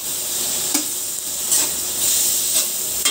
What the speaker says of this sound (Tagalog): isunod na agad ng kamatis. Gigisan natin siya para maluto agad.